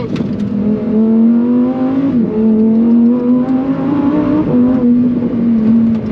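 A naturally aspirated, non-turbo, non-hybrid Lamborghini engine revs loud and close on a quiet road, its steady high-pitched drone rising and dipping through several throttle swells with no talk over it.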